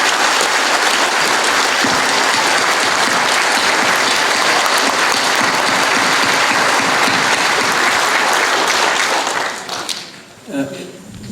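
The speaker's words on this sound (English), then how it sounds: "Another round of applause for them." Loud, sustained applause from a chapel festival audience fills the space for about ten seconds, dense and even, then tapers off abruptly with a few last claps.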